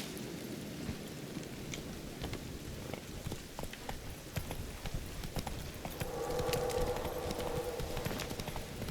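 Roach the horse trotting in The Witcher 3, a steady clip-clop of hooves on hard ground carrying through the whole stretch, with a low rumble swelling near the end.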